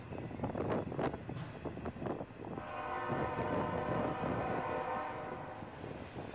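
A freight train hauling Schneider and JB Hunt trailers rumbles past on the line toward the Dubuque yard, with clanking railcars and a steady rolling roar, heavy wind buffeting the microphone throughout.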